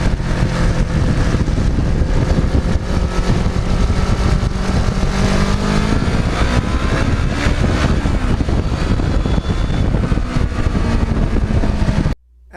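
A restored black and gold Kawasaki Ninja motorcycle rides along with a steady, loud engine drone and wind roar that holds unbroken for about twelve seconds before cutting off at the end.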